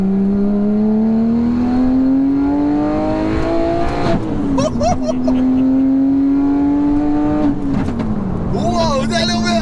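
A 2000s performance car with overrun tuning drones as the revs climb steadily, then lifts off twice with crackling pops and burbles. The engine is loud and near, with voices in the cabin.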